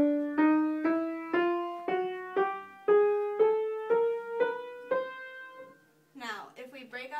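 Thirteen keyboard notes climb steadily one after another in a chromatic run, each struck clearly and ringing briefly, followed by a short burst of talking.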